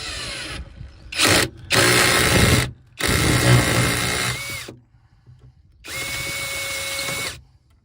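A power drill bites into a rivet on a Ford Transit Custom van in short close bursts, three whirring runs with pauses between and a final steady spin of the bit.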